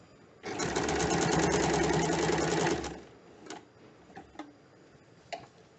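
A sewing machine runs close by in one steady burst of rapid ticking stitches along an elastic edge, about two and a half seconds long, followed by a few faint clicks and handling knocks.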